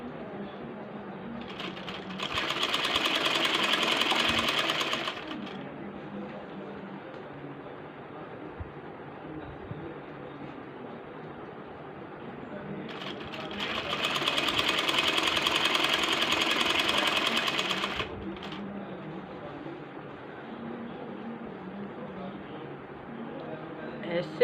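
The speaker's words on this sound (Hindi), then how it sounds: "पाइपिंग को रखते जाना है और सीते जाना है।" A sewing machine stitches piping onto the side slit of a kameez in two loud bursts of several seconds each, with a quieter stretch of room noise between them.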